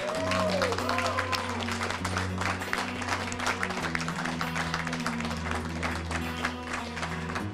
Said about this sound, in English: Another round of applause for the amazing Virtus.pro.